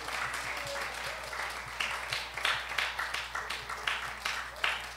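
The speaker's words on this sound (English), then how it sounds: "Can we give them a big round of applause?" Middle school concert audience claps, a moderate crowd whose applause starts softly and builds into louder, irregular surges of individual claps in an indoor hall.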